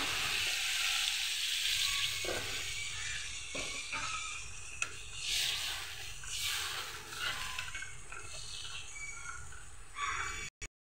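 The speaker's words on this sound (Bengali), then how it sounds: "এখন আমি এখানে পরিমাণ মতো একটু ঝোল দিয়ে দেব।" Broth is poured into a pan of sizzling spice masala, cooked for a fish curry with greens and pabda fish. A steady frying hiss swells and softens with a few clinks, close by, without talk.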